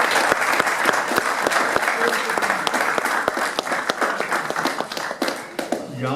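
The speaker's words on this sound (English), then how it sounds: "if I could just ask you to give them a round of applause, please" An audience at a football club's end-of-season awards ceremony gives sustained, dense applause that fills the room, with a few sharper claps standing out near the front throughout.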